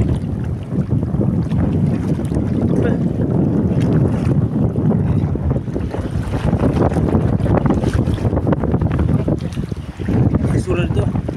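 Strong sea waves and wind batter a small fishing boat at sea, a constant loud rushing wash with gusty buffeting on the microphone, while people talk faintly over it.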